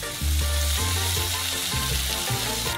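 Minced beef sizzles and crackles in a hot pan, a close, steady frying hiss with occasional stirring scrapes, no talking.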